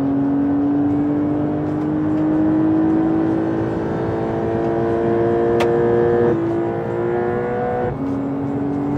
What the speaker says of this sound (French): je vais vous montrer un petit peu ce que ça donne en termes d'accélération. Je ne sais pas si on entend le moteur là